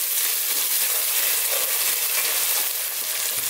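Garlic, ginger and fennel seeds fry in a pan with a steady, close, bright sizzle that holds at an even loudness throughout, with no voices.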